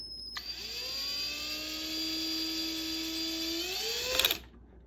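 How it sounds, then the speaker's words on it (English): A small bit in a power drill whines high and steady while drilling into the caps of a Neutrona Wand prop, pitch sagging slightly under load before a brief rattle and stop. "You will need a drill and a small drill bit."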